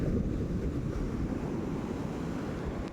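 Sea waves on a shore push a continuous low rushing roar, while wind buffets the microphone throughout. No voices are heard.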